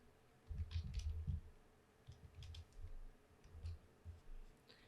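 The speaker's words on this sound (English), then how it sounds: "So I'm just typing those in separated by commas." Faint, uneven bursts of key clicks come from a computer keyboard as task numbers are typed into Microsoft Project 2021, quiet and close with short pauses between runs and no talking.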